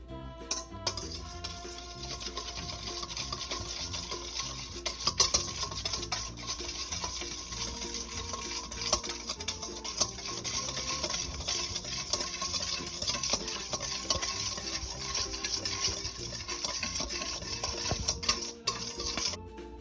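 A utensil stirs broccoli and seasonings around a pot or pan, making steady scraping and clinking with a faint sizzle underneath, and no one speaks.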